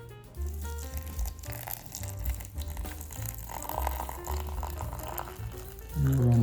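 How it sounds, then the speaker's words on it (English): Boiling water pours steadily from a kettle onto fresh mint leaves in a cup for homemade tea, a continuous close liquid stream lasting several seconds and rising in pitch as the cup fills. "we're going to pour our boiling water on there"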